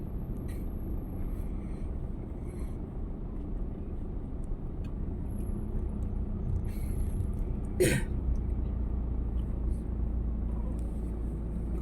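Traffic on a congested road near Estrella and Guadalupe, heard from inside a car as a steady low engine and road rumble, with a short sharp burst midway and faint noises from the cabin.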